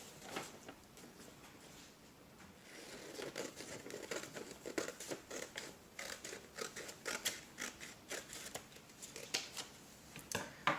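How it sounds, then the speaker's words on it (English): Scissors snip through a folded sheet of paper along a creased line, producing a steady run of close, crisp cuts and rustles during a craft project. "we're gonna open it up and we're gonna cut along the line that we made"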